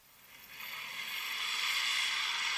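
Nissan X-Trail e-Power accelerating hard from a standstill to 60, heard from inside the cabin as a steady rising broadband whoosh of road and motor noise that builds in loudness over a few seconds, with no talking.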